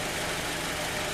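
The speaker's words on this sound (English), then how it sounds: "I'm going to start the car." A car engine runs at a steady idle during a pre-purchase inspection, a constant broadband rumble with no distinct start visible, loud and close throughout.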